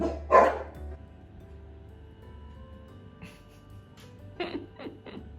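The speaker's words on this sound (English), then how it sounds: "the dogs are about to bark" A dog gives one loud bark, then after a quiet stretch several more sharp barks follow in quick succession over a low background hum.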